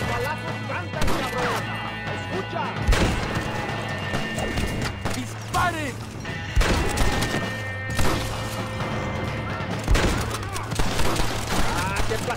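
Repeated gunshots in Red Dead Redemption, cracking out in scattered volleys among galloping hoofbeats and horse whinnies, with game sounds filling the background.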